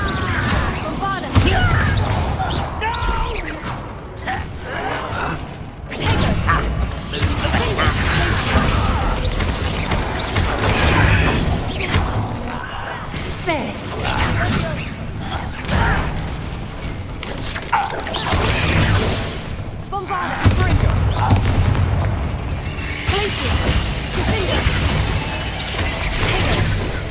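Bombarda spell explosions in the Hogwarts Legacy video game, loud repeated booms and crashing impacts amid dense battle noise, with voices speaking over the action.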